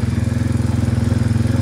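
Farm bike engine with a centrifugal clutch running steadily close by while shifting down to a lower gear, a low rhythmic chugging throb with no gap or change in pace.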